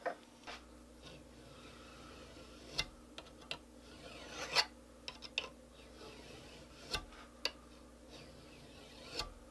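An edge is worked on a card scraper to raise a burr, producing faint, quiet rasping strokes with scattered light clicks in an otherwise hushed room.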